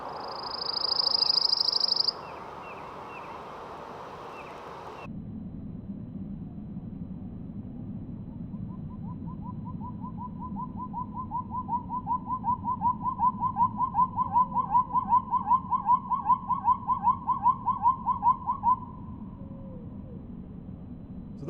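Bird song recorded outdoors at an elementary school: a brief high whistled phrase at normal speed, then a long slowed-down version as a low pulsing trill over background hum.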